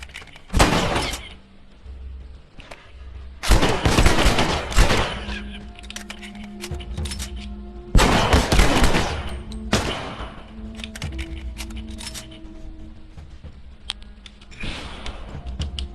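Gunfire and bursts from The Last of Us Remastered video game, loud sharp volleys in separate clusters spread over the stretch, with quieter game ambience between them.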